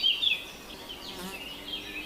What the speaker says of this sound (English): it had a fly, I think, flew in there.